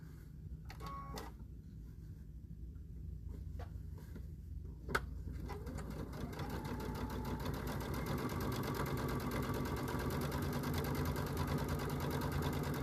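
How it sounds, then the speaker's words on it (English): Sewing machine stitching down a quilted towel top, starting after a few clicks and a sharp tap, then running at a fast, steady mechanical hum with rapid needle ticking, close and uninterrupted. "So we're going to stitch down our top now."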